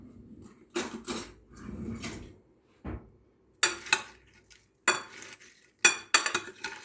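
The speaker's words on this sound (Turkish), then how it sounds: "Şöyle iki kaşıkla güzel bir şekilde karıştıracağım." Two spoons stir and fold a fried-potato salad in a bowl, giving intermittent scraping clinks and soft mushy turns in uneven bursts, with short quiet pauses between strokes.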